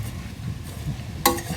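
Vegetables and green beans being stirred in oil in a pan for Chettinad veg biryani, soft scraping and faint sizzle throughout, with a sharper clatter of the spoon against the pan near the end.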